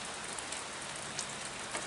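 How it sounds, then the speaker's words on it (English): Steady rain falls outdoors in March with a dense, even hiss and faint scattered drop patters throughout. No voices. "but it's raining"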